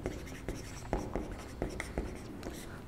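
Chalk or marker writing on a board during a chemistry lecture, a quick series of close scratching and tapping strokes in an uneven rhythm, with no talk over it.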